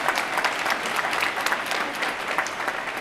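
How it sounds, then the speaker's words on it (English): A graduation ceremony audience claps in steady, dense applause that fills the space evenly for several seconds with no voices over it. "that's worth applause for sure."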